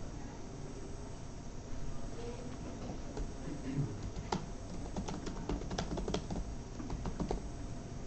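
Keys clatter on a computer keyboard while code is written, quick irregular clicks in bursts over a constant low room hum, quiet and close.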